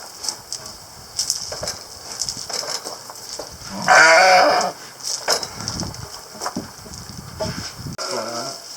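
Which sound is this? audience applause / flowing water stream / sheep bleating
sheep bleating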